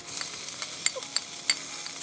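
Steady, fine crackling sizzle of onions frying in hot oil, with a few sharp pops and stirring clicks over a constant hiss.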